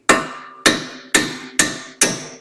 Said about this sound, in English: we're going to tap on this side with a hammer just to release that bolt.